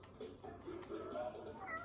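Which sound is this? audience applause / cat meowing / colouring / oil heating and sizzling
cat meowing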